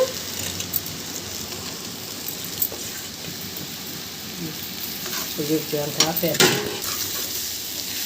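Boiled green banana and fried onions being stirred with a ladle in a hot pan, with a steady sizzle and occasional scraping and clinking of the ladle.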